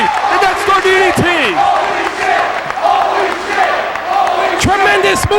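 A wrestling crowd roars and cheers on its feet after a Death Star DDT, a loud sustained wall of shouting and whooping with a commentator's voice over it.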